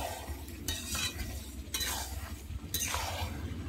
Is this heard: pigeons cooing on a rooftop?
no